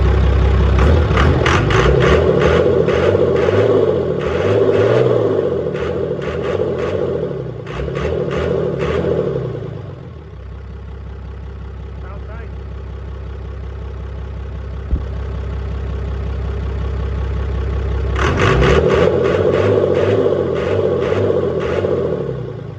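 A heavy 24-valve Cummins diesel engine with a P-pump idles at about 650 to 700 rpm with a low rumbling chug, then a louder clattering rhythm that drops away and returns, up close.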